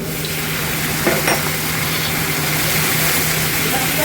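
Tomato, green chilli and cashew paste sizzles steadily in a pan after a splash of water, a continuous close frying hiss with a couple of faint utensil taps and no talking.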